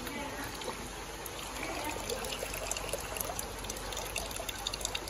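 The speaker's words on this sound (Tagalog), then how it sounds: "Ayan na, may dumating na na tubig." Steady rushing water flows and trickles continuously into a fish pond, filling a space, with faint voices now and then in the background.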